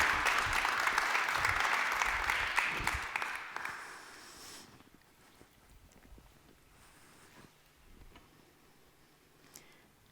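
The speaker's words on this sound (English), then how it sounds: "Please give him a warm round of applause." An audience gives a round of applause to welcome the next speaker, loud dense clapping for about four seconds that then thins out and fades to quiet room tone with a few scattered claps.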